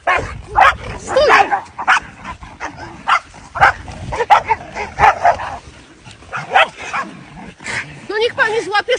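Several dogs bark, yip and whimper in quick bursts during an attack on a walk in a forest, loud and close, while people shout over the commotion.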